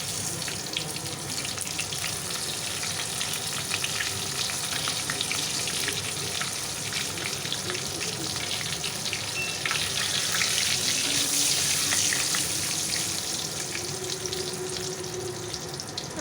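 Five-spice and green chilli frying in hot oil, a steady close sizzle and crackle, with some faint clinks of a utensil and no talking.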